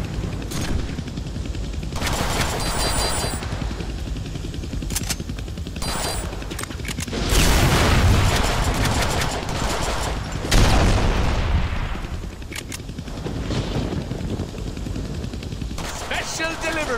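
Heavy gunfire from a big gun in the Deadpool video game: dense bursts of loud automatic fire and booming blasts, with the heaviest volleys in the middle, under a busy game soundtrack.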